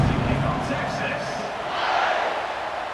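Stadium crowd in College Football 26 at a Texas Tech versus Texas game, a broad steady roar of cheering fans during a kickoff, with a commentator talking over it.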